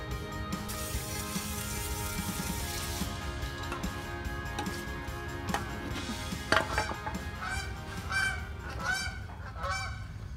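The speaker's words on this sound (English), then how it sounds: "Geese are doing a flyby." Geese honk as they fly overhead, a series of nasal calls that grow more frequent near the end, heard outdoors over a low steady background rumble.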